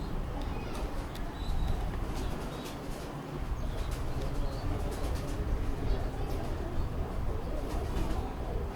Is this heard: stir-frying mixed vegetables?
no